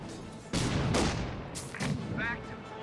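US mortar in Company of Heroes 2 firing during a match, a few heavy booming blasts and crumps with broad noisy bursts, mixed with game battle noise and faint commentary underneath.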